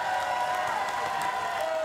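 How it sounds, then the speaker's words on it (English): A huge home crowd cheering and applauding the winners of a powerboat race on the water at Arona, Italy, a steady dense wash of clapping and crowd noise heard from some distance. "A huge crowd cheer on their home heroes"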